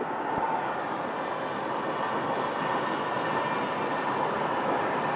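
A fixed-wing airliner arriving at Phoenix Sky Harbor airport, its engines a loud, steady broadband roar throughout, with no speech over it.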